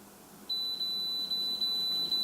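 A single steady, high-pitched electronic beep from a multimeter continuity test on a low-voltage transformer sounds continuously for about two seconds against quiet background noise.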